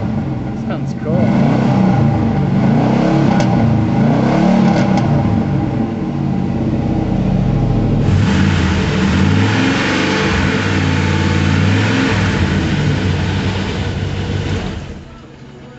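Chevy truck engine running and revving after exhaust work, a loud, rough rumble with rising and falling revs through most of the stretch, voices talking over it before it cuts off near the end.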